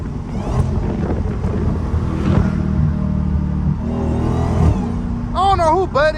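Dodge Hellcat driving with a loud, rumbling engine note that swells and drops, wind buffeting the microphone and a voice talking over it, with a brief sharp warbling sound near the end.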